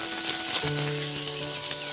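A hilsa fish head fries in hot oil in a pan, giving a moderate, continuous sizzle with faint crackling up close and no talking.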